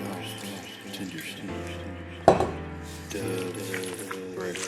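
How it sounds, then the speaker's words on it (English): Water trickling from a tap into corn fritter batter, a soft running stream with a clear clink of utensil or bowl midway, steady and close. "Add a little more water to that"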